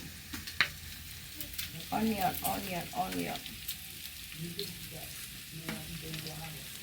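Chopped onion sizzling and frying in a pan for a Kenyan matumbo (tripe) dish, a steady close hiss with stirring scrapes and a brief murmur of speech over it.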